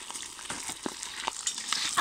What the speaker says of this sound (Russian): Будем жарить двумя порциями по три окорочка.